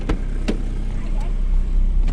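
A 1.0 car engine rigged to fake a turbo sound runs with a steady low rumble and hiss, with a few sharp puffs or pops standing out over the drone.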